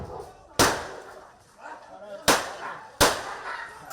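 Gunshots fired by an agent at a pit bull during an operation to demolish illegal buildings: three sharp, loud reports, one alone and then two in quick succession, over faint background noise.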